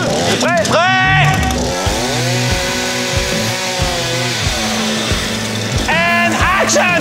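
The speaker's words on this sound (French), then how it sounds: "réparer un trou à la tronçonneuse" A chainsaw engine revs up and down loudly, its pitch rising and falling in repeated bursts, with voices briefly heard at the start and end.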